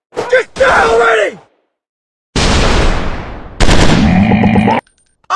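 Gunfire from an FPS commando shooting video game comes in dense bursts between loud shouted voice lines, with silent gaps between the sections.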